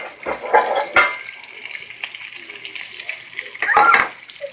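A kitchen tap runs to fill a pot with water for pasta: a steady gushing splash, close and fairly loud, with a few knocks and clatters of the pot.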